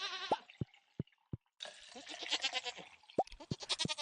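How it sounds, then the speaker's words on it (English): Goats bleat in the farming video game Stardew Valley, several short bleats and sharp plinking game sound effects spaced out over a few seconds, with a busier burst of chirpy tones in the middle. "Now I'm milking my goats and my cows."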